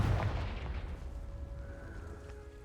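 Confringo fire spell blast in the Hogwarts Legacy video game: a single heavy explosive boom at the start, decaying into a rumbling tail with faint lingering tones, no talk.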